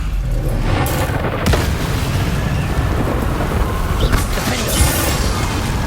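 Fire spell cast in Hogwarts Legacy, loud sustained whooshing and rumbling bursts with booming impacts throughout, no voices.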